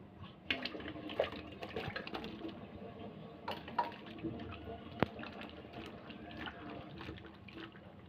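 Cut bottle gourd pieces are washed in water, with faint splashing, trickling and occasional knocks against the vessel, heard close and quiet.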